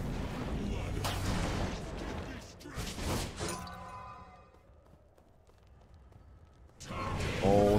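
A fire blink ability from the video game SMITE goes off with a loud burst and crackle, followed by a quieter fading tail and further game effects, heard under and between excited talk.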